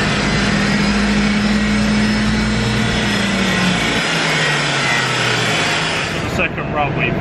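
A Ford Fiesta ST200 with a Superchips stage 1 remap roars on a dyno, a loud sustained high-rev engine drone with a rising then falling tone before cutting off near the end, with a voice talking over it.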